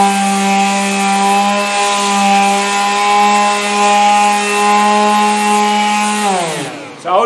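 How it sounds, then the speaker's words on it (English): A pad sander works along the grain of a wooden piece with a steady, loud motor hum and rubbing abrasive hiss close by, then winds down and stops near the end. "When you use this pad sander, you want to make sure you're sanding in the direction of the grain."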